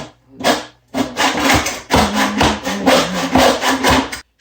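Wood being cut with a hand saw, a run of rough rasping strokes in a steady back-and-forth rhythm after a short pause, loud and close with no talk.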